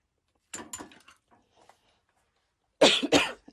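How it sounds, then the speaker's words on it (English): Two short coughing bursts, one early and a louder pair near the end, close to the microphone in an otherwise quiet room. "Oh, I always have to cough during a video."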